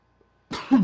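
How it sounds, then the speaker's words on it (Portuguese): A single sharp cough bursts out, followed by a rougher, throaty second cough, close and fairly loud after near silence. "agora eu comecei a tossir"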